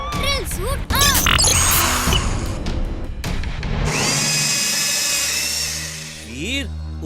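Cartoon robot's drill suit activating, with whirring, rising mechanical drill and servo effects, clanks and a sustained high whine, loud and busy amid other sound effects.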